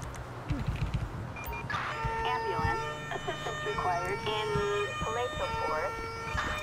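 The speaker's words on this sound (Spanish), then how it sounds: "Aquí viene la ambulancia" An ambulance siren wails in the police-patrol video game GTA V with the LSPDFR mod, a rising and falling electronic tone that comes in after a few seconds and keeps cycling, with someone talking over it.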